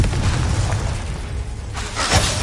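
A Confringo blasting spell explosion in Hogwarts Legacy, a rumbling burst with a sharp crackling blast near the end, loud and close with no talk.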